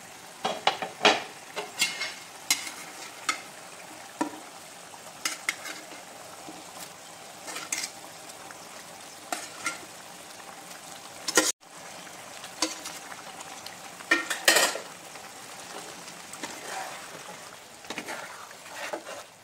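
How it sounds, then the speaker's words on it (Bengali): Cauliflower pieces tumble into a bubbling cashew gravy in a pan, followed by repeated clinks and scrapes of a spoon stirring over a soft background sizzle, with a sharp clatter midway. "তো আমার গ্রেভিটা ফুটতে শুরু করেছে। এইবারে আমি কপিগুলো দিয়ে দেবো।"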